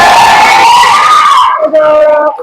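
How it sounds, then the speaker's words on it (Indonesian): A class of schoolchildren in a religious education lesson erupts in loud, unison shouting and cheering, their high voices ringing together close by for about two seconds before trailing off. "Nah, tepuk tangan."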